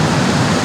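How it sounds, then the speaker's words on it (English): Ocean waves surge and crash on a beach with a rising tide during a hurricane wind storm, a loud, constant roar of surf and gusting wind filling the whole brief moment without any voices. "the tide's coming up, and with these waves, we're going to be done"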